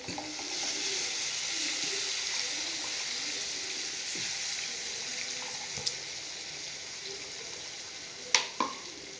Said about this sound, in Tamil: இஞ்சி பச்சடி நல்லா கொதித்து வெந்துக்கிட்டு இருக்கு